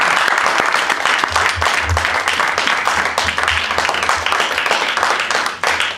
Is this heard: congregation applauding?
yes